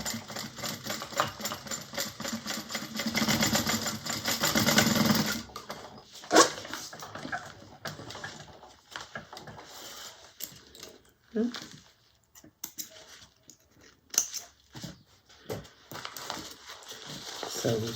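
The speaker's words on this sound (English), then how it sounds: "right sides together, bringing that together like that, and we just sew across" A sewing machine stitches across a bag lining, making a fast continuous mechanical rattle that stops and restarts in short bursts, mixed with handling clicks and fabric rustle.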